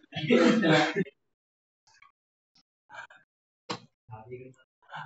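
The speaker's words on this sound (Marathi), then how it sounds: "मुद्दामून खोकल तू आवाज आला पाहिजे याच्यात." A deliberate throat clear or cough comes as a short sharp burst in a quiet room. Brief bits of speech come before and after it, with a louder stretch of talk at the start.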